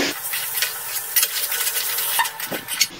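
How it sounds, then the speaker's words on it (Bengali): Prawns and fried pointed gourd are stirred in spices in a pan, with scraping strokes and light clinks over a soft sizzle, close and irregular. "এবার সব কিছু ভালো করে একটু নাড়াচাড়া করে নিচ্ছি।"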